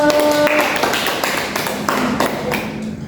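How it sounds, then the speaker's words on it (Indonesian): Applause from a group at the close of a podcast session, a steady patter of handclaps throughout, fairly close and loud. "Tepuk tangannya dulu"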